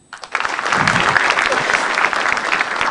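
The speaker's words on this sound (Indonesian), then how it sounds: "Tepuk tangan lagi deh." An audience at a stand-up comedy show breaks into loud, sustained applause that swells quickly and holds steady, a dense wash of clapping from a nearby crowd.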